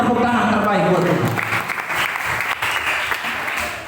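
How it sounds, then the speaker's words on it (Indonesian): A church congregation claps loudly and steadily in a worship service, dense applause that fills the room and carries on under a voice speaking over it. "Beri tepuk tangan terbaik buat Tuhan."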